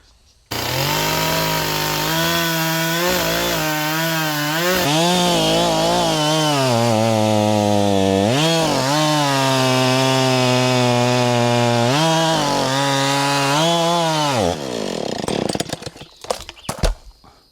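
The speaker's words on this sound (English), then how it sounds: "I'm gonna get a chainsaw" A chainsaw runs continuously for about fourteen seconds, its engine pitch rising and dipping as it bites into wood, loud and close, then sputters to a stop.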